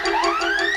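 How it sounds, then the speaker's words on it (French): Cartoon alarm going off in the Smurf village at midnight, a loud rising electronic wail with pulsing tones, close and continuous with no talk over it. "C'est le schtroumpfer d'alarme, n'est-ce pas?"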